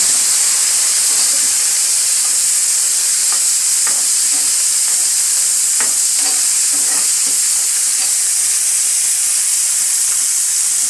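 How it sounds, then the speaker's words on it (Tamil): Steady loud sizzle and hiss of a tomato frying in a pan while making a special chicken kulambu, with faint stirring clicks scattered through the continuous frying noise, no talking. "இப்போ வந்து தக்காளி போட்டுறேன் இந்த ஒரு தக்காளி"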